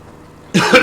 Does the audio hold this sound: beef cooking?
no